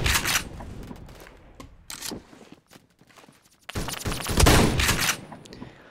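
Loud, sharp blasts from a KS-23M shotgun in Phantom Forces, fired in a few spaced bursts with a dense cluster near the end, over quieter gaps of movement noise.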